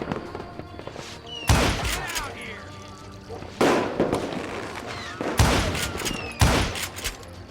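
Gunshots crack in the Call of Juarez Gunslinger video game, a series of sharp, loud reports spaced a second or two apart, with ringing ricochet-like tails and game music underneath.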